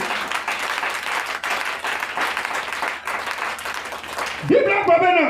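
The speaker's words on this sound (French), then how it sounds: "Acclamez pour Jésus." A church congregation at a Friday evening sermon claps and cheers in sustained applause, with a preacher's voice rising over it near the end.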